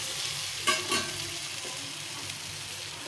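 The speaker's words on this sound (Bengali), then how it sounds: "এখন আর পাশের জন্য একটু বাটার দিয়ে এগুলো ভেজে নিতে হবে" Tiffin snacks frying in butter in a pan on the stove, a steady soft sizzle with a couple of brief louder stirring scrapes near the start, close and alone.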